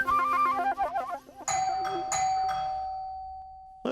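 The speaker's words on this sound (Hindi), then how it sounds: "ये तो डोरबेल बज रही है।" A doorbell chimes several times in quick succession, bright ringing tones that linger and fade, after a stretch of melodic electronic tones.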